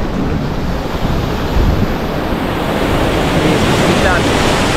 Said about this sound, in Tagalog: May dagat oh.